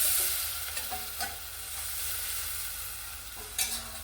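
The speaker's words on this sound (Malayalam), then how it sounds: "ഇത്രയും പൊടികളെല്ലാം കൂടെ ചേർത്തിട്ട് നന്നായിട്ട് ഒന്ന് വഴറ്റിയെടുക്കാം" Spice powders sauté in a pan for a Kerala-style fish curry, giving a continuous sizzle broken by occasional scraping stirs and a sharper clatter near the end, with no talk.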